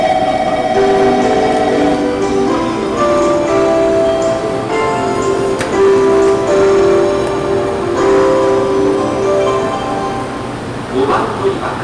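A local train departing Arao Station rumbles along with sustained tonal squeals and hums from the wheels and cars, loud and close, building as it moves off.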